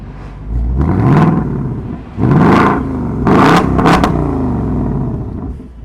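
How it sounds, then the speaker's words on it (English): Ford Mustang Dark Horse 5.0 V8 revved repeatedly by remote with the cabin empty: three or four loud, close throttle blips in quick succession, each rising and falling, over a steady idle rumble. "it's going to rev the car without me in it"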